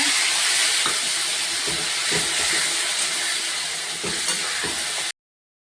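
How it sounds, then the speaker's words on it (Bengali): Eggplant pieces fry in a hot wok with ground sesame and peanut paste, a steady broadband hiss and sizzle running close and loud throughout, with faint stirring knocks, then cutting off abruptly near the end. "কড়াই বেগুনগুলো দিলাম দিয়ে তিল আর বাদাম বাটাটা"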